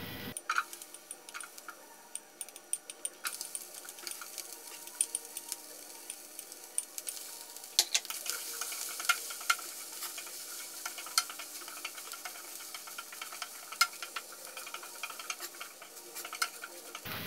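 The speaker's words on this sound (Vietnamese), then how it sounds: "Bên mình sẽ phi hành với cả gừng lên cho nó thơm." Chopped onion and ginger fry in a pan that was just used for fried quail eggs. A soft, steady sizzle runs throughout, broken by frequent sharp clicks and scrapes as a utensil stirs, quiet and close.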